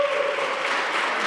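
A council meeting audience in Cleveland breaks into applause, a dense, even wash of clapping from start to finish with a brief tone at the outset.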